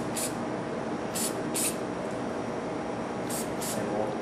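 Continuous hissing spray from an aerosol can onto skin before ankle taping, steady for several seconds, with a few sharp higher bursts layered on top.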